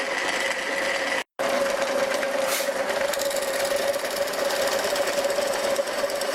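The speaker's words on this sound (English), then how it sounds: "Let's try and drill some wood." A homemade drill press with noticeable bit runout drills wood with a steady mechanical whir and strong sustained hum, briefly cutting out once near the start, close and loud.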